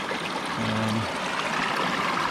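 A cold mountain stream on the Mt Solitary trail near the Golden Staircase flows in a steady, close, continuous rush of water, with no voices over it.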